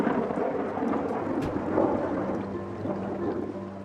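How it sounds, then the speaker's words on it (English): Steady rain patters down while a low rumble of thunder rolls through, dense and close, with no voices. "Rain not only slows down Teoman's schedule, it also soaks an already wet building."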